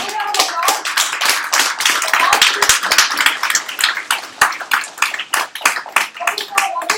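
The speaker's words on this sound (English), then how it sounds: "big round of applause" An audience at the AWS Amaz-ing Hack 2015 hackathon presentations gives a dense round of applause, many hands clapping loudly and continuously for several seconds, with voices mixed in.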